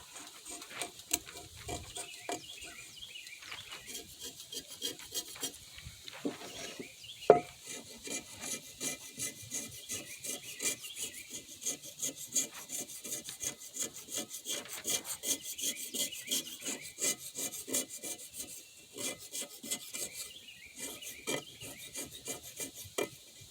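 A razor blade scraper rasps steadily across a stainless steel pan being restored, a dense run of close, gritty strokes continuing for the whole stretch with one sharper knock partway through.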